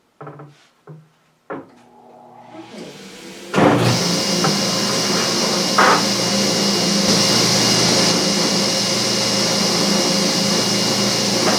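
A shop vacuum in a woodworking shop kicks on after a few clunks and a rising electronic tone, then settles into a loud, steady whooshing roar that continues alone to the end.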